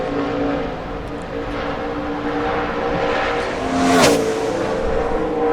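A NASCAR Sprint Cup car on a 2010 qualifying lap at Fontana, engine roaring steadily and swelling as it sweeps close past, with a brief rising-then-falling whine near the end.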